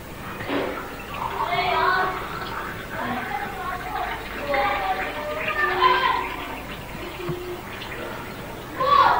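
Water from a tap or jug runs and splashes into a glass holding pen ink, a continuous bubbly pouring sound that rises and falls in loudness.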